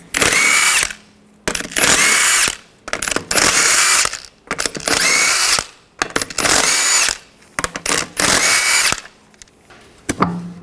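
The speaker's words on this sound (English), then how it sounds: "Using a 22mm socket, take the lug nuts off." Power tool with a 22mm socket spinning lug nuts off the rear wheel of a 2015-2020 Cadillac Escalade during a brake caliper job: six loud, close bursts of whirring and rattling, each about a second long, separated by brief pauses.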